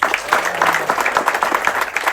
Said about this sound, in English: Big applause for Yuri.